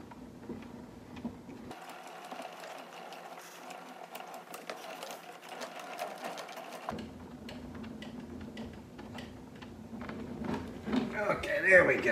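Crank being wound on a 100-year-old phonograph, giving a close, steady run of fast mechanical ratcheting clicks while someone talks quietly.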